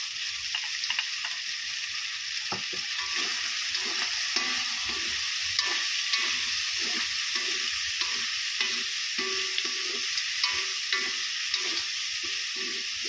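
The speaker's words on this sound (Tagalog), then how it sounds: "Isunod na rin po natin yung ating kamatis." Tomatoes sautéed in a frying pan for an adobo-style dish, with a steady sizzle throughout and repeated scraping stirs at an even rhythm, heard close and alone.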